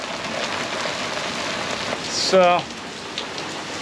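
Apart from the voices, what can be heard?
rain falling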